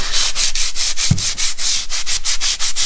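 Light hand sanding around kitchen cabinet fronts gives a loud, close, rhythmic rasp in steady back-and-forth strokes of roughly four per second, with one dull knock partway through.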